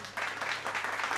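An audience clapping along at a live Maithili folk song performance, a steady dense round of applause with rhythmic swells throughout, fairly close and filling the whole clip.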